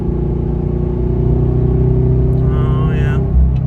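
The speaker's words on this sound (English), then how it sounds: "possible sound check for the Subarus. So let me just downshift" A Subaru car engine hums steadily after a downshift, a close, even mid-range drone holding at a constant pitch before easing off near the end.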